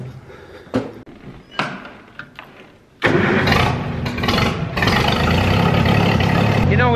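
A vehicle inside a shed gives a few clunks, then its engine catches and starts. It settles into a loud, steady running rumble, close by.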